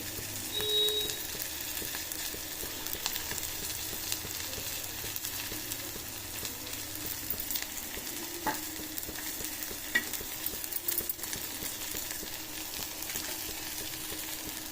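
Moringa leaves frying in a pan, with a constant close sizzle and repeated scraping and tossing strokes from stirring. The sound holds fairly even throughout.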